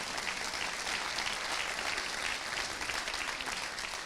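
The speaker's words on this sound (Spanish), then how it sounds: "Gracias, un aplauso a este discípulo amado." A church congregation applauds steadily and densely, a full sustained clapping that holds at an even level throughout, with no speech over it.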